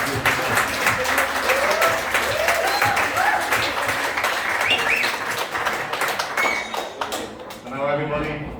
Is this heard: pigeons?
no